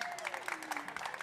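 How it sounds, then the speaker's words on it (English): Audience applause from a live stage session at an automotive dealers' trade show, a continuous patter of many hands clapping, fairly quiet and distant throughout the brief moment. "let's give them a round of applause."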